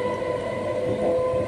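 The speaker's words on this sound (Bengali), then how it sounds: "এই যে ট্রেনে চেপে যখন যাচ্ছি" Steady low rumble of a moving passenger train heard from inside a carriage on the Sagardighi to Rampurhat line, with a faint sustained tone above the rolling noise and no voices.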